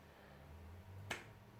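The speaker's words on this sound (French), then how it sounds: "Petit claquement de doigts." A single crisp finger snap cracks out once, near and sharp, against a quiet low background hum.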